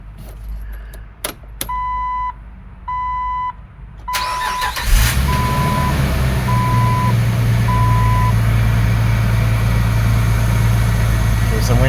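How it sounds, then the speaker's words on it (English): A 2005 Jeep Wrangler gives a series of regular warning chimes and a jingle of keys, then its engine cranks and catches, settling into a loud, steady idle that runs to the end. "start this car, see whether we have our speed sensor signal and our speedo"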